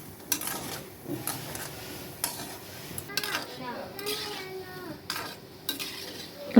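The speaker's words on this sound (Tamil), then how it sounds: "எனக்கு நல்லா பொரிஞ்சிருக்கணுன்றதுக்காக நான் நல்லா ஃப்ரை பண்ணிக்கிறேன்" Instant-mix gulab jamun balls deep-frying in hot oil give a low bubbling sizzle, punctuated by scattered clinks and scrapes of a utensil against the pan.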